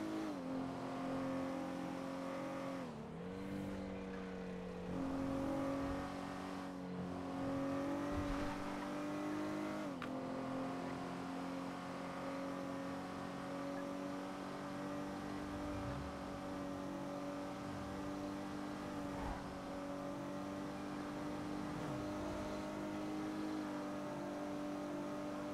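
A car in a video game roleplay drives steadily with a continuous engine drone and occasional pitch shifts as it speeds up and slows, fairly constant in level throughout with no talk.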